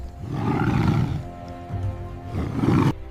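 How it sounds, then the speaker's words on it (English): A lioness snarls and growls in two deep, rumbling bursts at a watering hole, close and loud, with a brief pause between them. "The lioness scrambles backward, snarling, echoing across the water."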